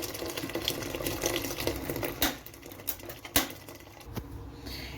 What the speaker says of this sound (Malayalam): അപ്പോൾ നമുക്ക് അതിലേക്ക് വെള്ളം ചേർത്ത് കൊടുത്ത് നമുക്കിതൊന്ന് വേവിച്ചെടുക്കാം.